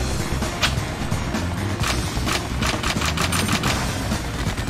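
A Kalashnikov rifle fired in the video game XIII, loud rapid automatic bursts crackling in quick succession over a busy background of game noise.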